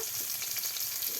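Ground spice pastes of cumin, ginger, garlic, mustard and nut sizzling in hot oil for a village-style chicken curry, a dense, steady frying hiss close to the pan with no voices.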